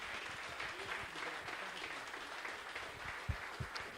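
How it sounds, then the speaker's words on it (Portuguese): A church congregation applauds during a worship service, a steady, dense wash of many hands clapping that holds at an even level throughout with no voices rising above it. "Mais uma salva de palmas ao Senhor"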